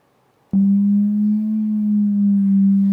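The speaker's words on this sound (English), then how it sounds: "So this is Kepler's Saturn. And this is what it actually would sound like." A steady low electronic tone sonifying Saturn's orbit as described by Kepler, microtonal, switches on abruptly and holds at an even pitch and loudness for a couple of seconds, with nothing else around it.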